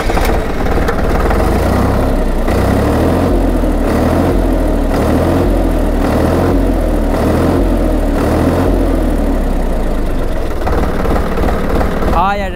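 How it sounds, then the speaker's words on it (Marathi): A Solis 3210 tractor engine runs steadily nearby, a loud low rumbling chug with a regular pulsing beat throughout, and a voice speaks briefly near the end. "हा या ट्रॅक्टरचा आवाज आहे"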